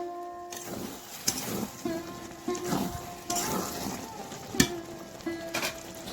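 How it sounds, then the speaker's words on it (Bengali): Banana flower dalna is stirred with reserved fried spices in a sizzling pan, the spoon scraping and clinking in an uneven rhythm over a steady frying hiss. "আমরা যে কিছুটা ভাজা মশলা তুলে রেখেছিলাম সেটা দিয়ে ভালো করে নেড়ে নেব"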